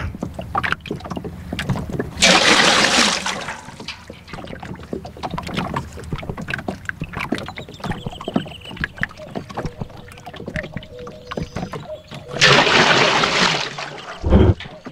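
Water drawn up at a lakeside pier in the sauna game Sauna 2000, heard as two loud, rushing splashes separated by a long stretch of quiet outdoor ambience with faint wind.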